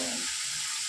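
Brinjal pieces sizzling in hot oil tempering for a curry, a steady close frying crackle with no speech.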